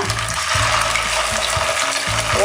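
Spice pastes of green chili and cumin fry in a pan with a strong, continuous sizzle close up, while a spoon stirs through them in short, repeated scrapes.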